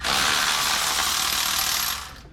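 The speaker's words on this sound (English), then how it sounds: "Cleaned up and pop these plugs out of here now." A hand ratchet clicks rapidly and continuously while removing spark plugs from a 1967 Mustang engine, a dense, close metallic ratcheting that fades out at the end.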